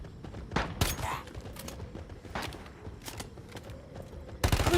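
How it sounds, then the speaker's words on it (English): Gunfire in the survival shooter Once Human, a few scattered shots and short bursts crackling at moderate distance, with a louder close burst at the end over a low game background. "They popping shots out here?"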